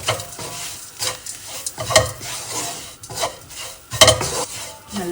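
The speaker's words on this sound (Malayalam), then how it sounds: "നമ്മുടെ മസാല മിക്സ് ഇട്ട് കൊടുക്കാം ഇനി നന്നായിട്ടൊന്ന് ഇളക്കി കൊടുക്കാം" Crushed masala mix for a wild deer meat dish is stirred in a hot pan, with a utensil scraping and clinking in repeated strokes over a close, crackling sizzle.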